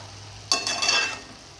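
Amaranth (thotakura) curry stirred in a pan, one brief scraping, sizzling stroke rising suddenly and fading within about a second, with a quiet background.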